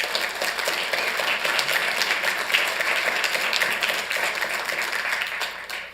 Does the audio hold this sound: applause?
yes